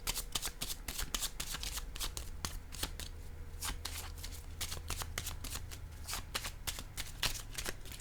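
Tarot cards riffled and shuffled by hand in steady rapid bursts of crisp flicks and snaps, close and fairly quiet, with a low hum underneath.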